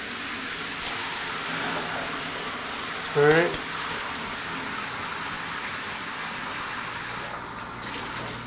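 A rain shower head and a hand shower on a newly installed PEX shower valve run together, giving a loud, even hiss of spraying water throughout, with a brief spoken remark partway through.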